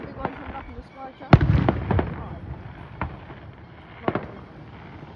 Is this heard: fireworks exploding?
yes